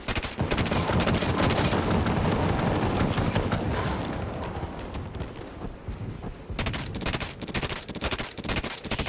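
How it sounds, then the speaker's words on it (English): Heavy weapon fire and explosions in Halo 5 Warzone as a fuel rod gun is fired at aliens, loud sustained barrage of blasts and gunfire that eases briefly before sharp bursts return. "Let me see if I can at least bust some of them up with my fuel rod."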